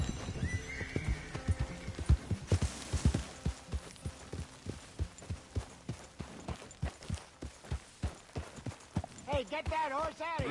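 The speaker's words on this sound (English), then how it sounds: "Hey, get that horse out of here!" Horse hooves clip-clop steadily in Red Dead Redemption 2, with a neigh early on. The evenly spaced thuds stay close and clear while voices talk over them and other game sounds rise at the end.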